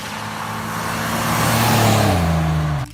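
A 1991 GMC Cyclone pickup truck's engine hums loudly and steadily, rising slightly in pitch as it pulls, then cuts off abruptly near the end.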